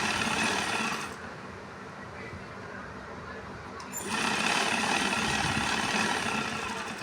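A sewing machine stitches the cuff of a salwar in two runs of steady, fast mechanical whirring, separated by a quieter pause of a few seconds, with no talking.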